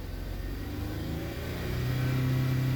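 A 2015 Ford Fusion engine revs steadily, its mid-pitched drone rising and holding around 2,500 RPM, loud and close from inside the car, with no voices.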